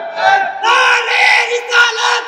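A crowd at a religious gathering shouts a slogan in unison, several loud rhythmic chanted bursts in quick succession, close and clear.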